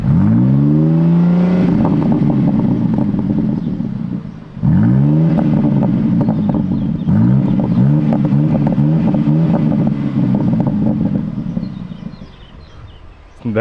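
BMW M4 engine revving hard in repeated rising bursts, loud and close, with a roaring pull-up then dropping off, several pulls in a row before settling to a lower idle near the end.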